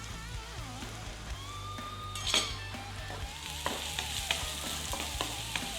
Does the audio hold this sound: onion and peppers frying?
yes